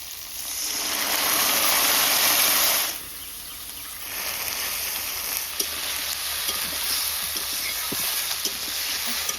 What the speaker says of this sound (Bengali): এবার যেই মশলা বেটে রেখেছিলাম আদা জিরে আর লঙ্কা দিয়ে দিচ্ছি